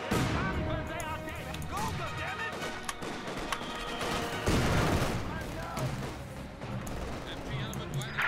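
Dense machine gun fire and scattered gunshots with explosions rattle continuously through a Company of Heroes 2 battle, loud and steady throughout, layered with game voice callouts.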